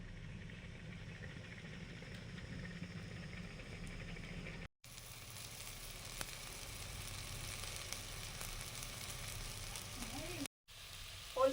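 Fried taro greens sizzling in a pan, a steady soft crackle that runs continuously with two brief cuts, fairly faint and close.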